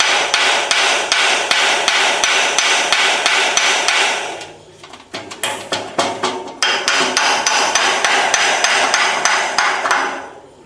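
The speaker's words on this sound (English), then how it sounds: "I'm going to try to persuade them a little bit with a hammer and get them to break loose a little." A hammer strikes rapidly and loudly on frozen parts of a Ford Model A frame, making a long run of fast metallic blows, then a short pause, then another steady burst of hits.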